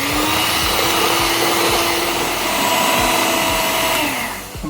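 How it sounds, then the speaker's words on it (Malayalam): Achappam batter with rice flour being beaten by an electric mixer, a loud steady whirring drone that runs unbroken for several seconds with no talk. "എന്നിട്ട് ഇതേപോലെ ചെറുതായിട്ടൊന്ന് ബീറ്റ് ചെയ്ത് കൊടുക്കാം."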